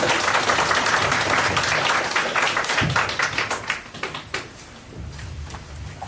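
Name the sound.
welcoming applause from the audience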